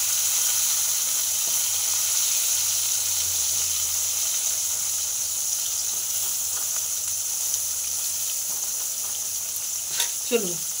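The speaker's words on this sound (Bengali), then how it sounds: "তো বেগুন ভাজাটা বসিয়ে ওকে খেতে দিব।" Eggplant slices frying in hot oil in a pan, a loud, continuous bright sizzle and hiss that holds steady throughout, with a few faint clicks near the end.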